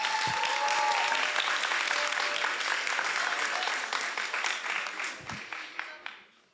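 An audience applauding to welcome a speaker at a debate, dense clapping that holds steady and then thins into scattered claps as it dies away.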